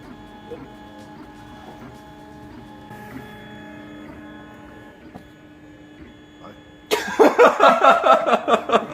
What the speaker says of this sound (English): over there is the 3D printer